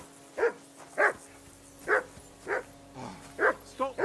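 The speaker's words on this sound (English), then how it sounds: "Get that mutt of yours to stop barking, will you?" Dog barking in a video game, a run of seven or eight sharp, mid-loud barks spaced roughly half a second apart with a steady background tone and no talking.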